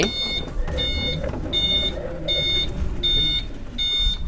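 An EV-646 six-seat electric golf cart with a roof sounds its reversing alarm: a loud, even series of about six sharp electronic beeps over outdoor background noise.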